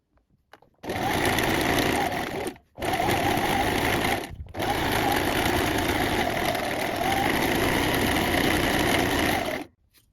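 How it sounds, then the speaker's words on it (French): An overlocker serges the seam allowance of sewn trousers, running in three steady bursts of loud, continuous whirring with brief pauses between them. "Vous surjetez votre marge de couture."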